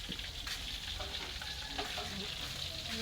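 Food sizzles and crackles steadily in a pan during home cooking, loud and close and without a break, with faint stirring and clatter in the mix.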